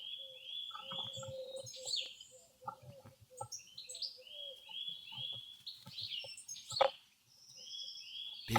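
A nest-building bird chirps and tweets in quick, high bursts, with rustling and small scraping sounds between calls, fairly faint and close.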